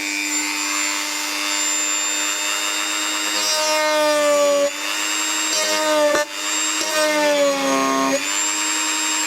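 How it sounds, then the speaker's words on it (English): Steady whining power tool grinding at a Lotus Elise S2 front clamshell, with pitch dipping and shifting as it bites into the material, near and loud throughout with a brief interruption midway. "So I'll need to grind this out a little bit."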